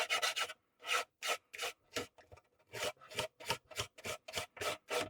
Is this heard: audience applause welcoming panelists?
no